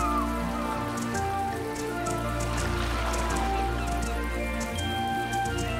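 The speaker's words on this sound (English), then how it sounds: "Just a bad day though, it's raining" Steady rain falls in the farming life-sim game My Time At Portia, a dense continuous patter with music playing underneath.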